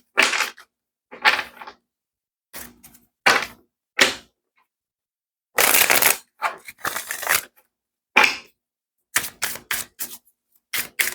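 Tarot cards shuffled by hand in short separate bursts of riffling and tapping, close and crisp, with silent gaps between them.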